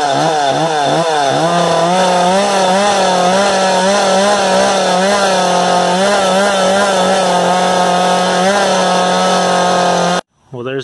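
McCulloch Eager Beaver chainsaw, 35–38 cc, running with a loud, close, buzzing engine note that wavers at first then holds a steady high idle before cutting off abruptly near the end.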